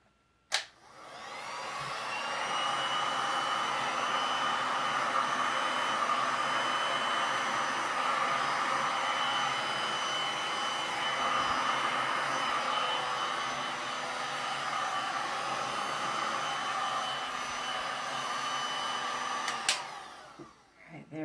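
A heat tool blows steadily onto a resin pour on a galvanized metal sign, giving a loud, even hiss and whir that runs nearly the whole time and cuts off near the end.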